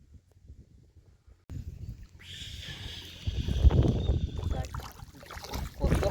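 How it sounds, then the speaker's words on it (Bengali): Ganges river water churns and laps against a boat amid rushing wind and engine-like rumble, growing louder after a quiet start. "কি সুন্দর ঢেউ রে গঙ্গা"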